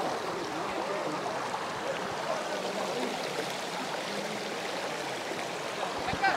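The stream below Aare Falls in Andhra Pradesh flows with a steady, even rush of water, a constant wash of broadband noise heard close and moderately loud with no break.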